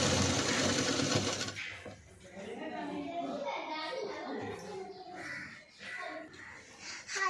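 A sewing machine stitches a padded blouse, rattling loudly and steadily for about a second and a half. Then it stops and a voice talks over faint background noise.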